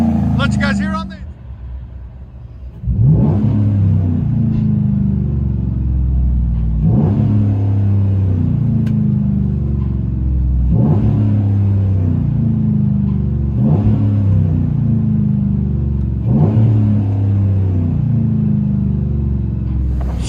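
A 2011 Chevy Avalanche 5.3L V8 with a bottle muffler and 6-inch tip revs repeatedly, five loud rising bursts spaced a few seconds apart over a deep rumbling idle, close up, with voices talking in between.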